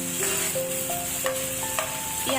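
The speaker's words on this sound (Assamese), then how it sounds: "এয়া চাওক পিঁয়াজ আৰু আদা নহৰুখিনি ভালদৰে ফ্ৰাই হৈ গৈছে" Onion with ginger-garlic paste sizzles steadily in a pan while being stirred, a continuous close frying hiss with occasional scrapes and clinks.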